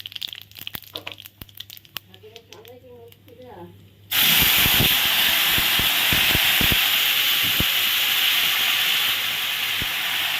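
Tomato paste added to hot oil tempered with cumin and dry chilli, erupting into a loud, sustained close sizzle that continues steadily to the end, preceded by a voice talking over light kitchen clatter.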